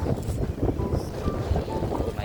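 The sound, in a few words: boat ride with strong wind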